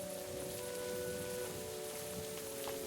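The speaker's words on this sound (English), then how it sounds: "Oh, it's raining." Rain falls steadily in Kingdom Come: Deliverance II, a soft, constant patter of drops on surfaces, faint and even throughout with no voices.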